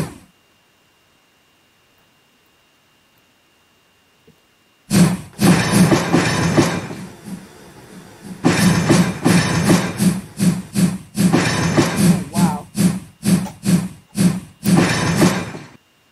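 Minecraft train running in the game, heard alone as a loud rhythmic clickety-clack of wheels over rail joints, starting abruptly after a few seconds of silence and continuing in steady repeated bursts.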